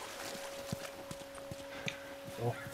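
A horse's hooves clop at a steady walking pace in The Last of Us Remastered, distinct regular thuds over a faint tonal game ambience, with a soft snort near the end.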